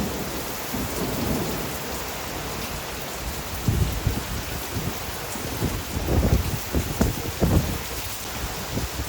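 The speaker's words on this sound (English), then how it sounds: "the rain is starting to come in a little bit" Heavy pouring rain drums steadily beside a job site where handrail work goes on under shelter, while deep thunder rumbles roll in and swell several times through the second half, with no talking.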